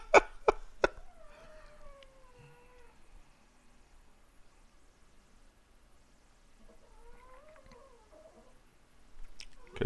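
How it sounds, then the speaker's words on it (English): A house cat meows in drawn-out calls, one early and another later, fairly faint and distant against a quiet room, with a few sharp knocks at the start. "cat noises in the background might not be great"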